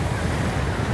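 Surf rolling in at Pattaya Beach, Thailand: a steady, broad wash of waves with wind rushing across the microphone, continuous and fairly loud with no distinct breaks.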